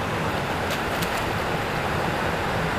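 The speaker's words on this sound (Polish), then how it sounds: "Słyszysz? Podmuch wody?" Steady, loud rush of flowing water and moving air inside a mountain drainage tunnel, a continuous broadband roar with no pauses, close and enveloping.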